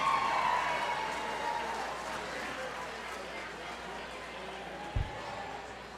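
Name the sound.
audience applause for team treasurer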